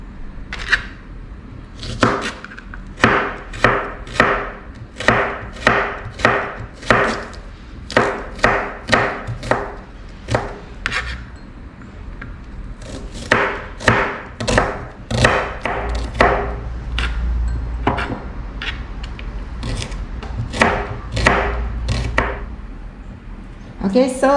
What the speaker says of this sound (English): Then I'll chop some shallots and garlic.